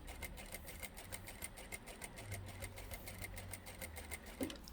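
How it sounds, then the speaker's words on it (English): A sewing machine stitches a seam through scrap fabric for a small pocket tissue pouch, with a back stitch at the start. It gives a fast, even, close mechanical needle rhythm that runs steadily throughout, with no speech. "And back stitch at the beginning and continue to sew to the end."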